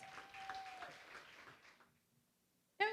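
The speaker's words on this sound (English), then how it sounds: "Let's give one last big round of applause for our third grade terrific kids." A round of applause for third grade Terrific Kid honorees at an elementary school assembly, moderate crowd clapping for about two seconds before it trails off to near silence, then a brief loud burst at the end.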